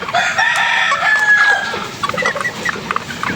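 A Carichua rooster crows close and loud in one drawn-out call that tapers off into a few shorter clucks.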